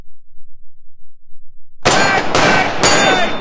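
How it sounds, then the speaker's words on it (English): Comedy kitchen gun sound effect: silence, then a loud metallic clang and ringing ding at about two seconds, followed by further bright clanging shots close up. "just 3 shots from kitchen gun and it sparkles like new"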